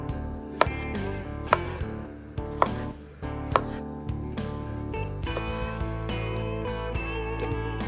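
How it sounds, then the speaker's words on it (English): A knife chops and saws through tomato quarters for an Italian-style tomato salad, with sharp cutting knocks at irregular intervals over steady, close background music. "They start to get hard to cut, you can zigzag your knife, saw your knife a little bit"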